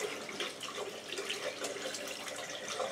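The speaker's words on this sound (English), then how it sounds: "turn the tap back on with your elbow" Tap running water for rinsing hands at a sink, a steady soft splashing stream throughout, faint and continuous with no talking.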